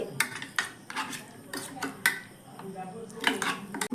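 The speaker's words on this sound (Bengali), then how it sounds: "এবার একটা চামচ দিয়ে ভালো করে এটাকে মিশিয়ে নিচ্ছি" A spoon mixes semolina with water in a bowl, several separate clinks and scrapes against the bowl sides in uneven bursts, close up and moderately loud, no talking.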